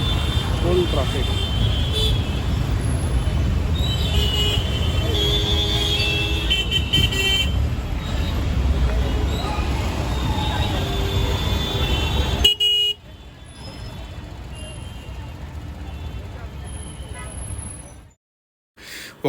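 Heavy Mumbai street traffic rumbles continuously with repeated car and bus horns nearby while voices talk over it. It drops suddenly to a quieter, muffled hum near the end, then falls briefly silent.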